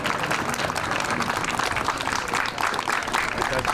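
Sustained audience clapping at a bus driver championship award ceremony in Tallinn, a dense, even roar of many hands that holds steady and loud from start to finish.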